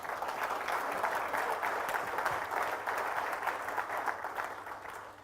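A conference audience claps steadily in a large room, with even and sustained applause that sounds somewhat distant and soft throughout.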